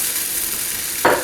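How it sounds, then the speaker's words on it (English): Scrambled eggs with wilted greens being stirred in a frying pan, a soft steady sizzle running throughout with a brief louder scrape or hiss near the end. "You just kind of slowly stir it every once in a while."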